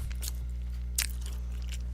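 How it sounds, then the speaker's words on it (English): Pop-Tart pastries being chewed close to the mic, giving a few crunchy bites and soft squishy chews in irregular bursts over a low steady hum. "So you won't have to hear me chew anymore."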